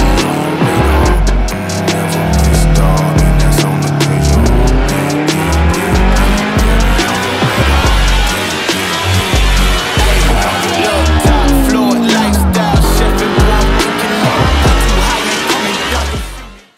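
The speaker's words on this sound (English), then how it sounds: "we're gonna put it back on the dyno, we're gonna re-baseline this bike" A 2015 Suzuki Hayabusa fitted with a Brocks Penta-Carbon exhaust roars on a dyno, its engine revving loudly in rising sweeps with sharp harmonic whine, close and dominant throughout.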